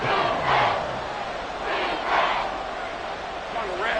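A football stadium crowd on its feet before a third-and-seven play late in a Jaguars game: loud, swelling roar and cheering in waves, with a commentator's voice over it.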